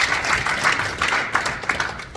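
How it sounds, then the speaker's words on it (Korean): Applause from an audience at a general assembly meeting of a social safety prevention association, a steady patter of many hands across two seconds with no speech over it. "박수 좀 쳐주시면 훌륭합니다"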